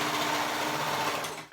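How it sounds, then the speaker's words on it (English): A serger runs steadily at high speed, a dense rapid whirring and stitching hum that holds constant before easing off at the end. "I'm doing it with my serger, which will not give it very sharp corners."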